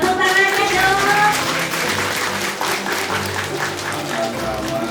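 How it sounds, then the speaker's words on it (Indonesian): An audience applauds at a birthday celebration held alongside a Magha Puja gathering, a dense steady clapping in a room that continues for several seconds with a voice speaking over it. "Tepuk tangannya dong"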